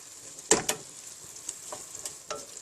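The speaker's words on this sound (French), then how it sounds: "On remue." Tomato purée being stirred into a bolognese sauce for lasagna, giving a few soft wet scraping strokes with a light sizzle beneath, one louder stir near the start, close and alone.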